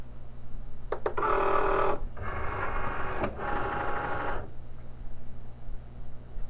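Cricut Maker cutting machine with a fine point blade running in short mechanical bursts of whirring and buzzing, separated by brief pauses, fairly close over a quiet background hum.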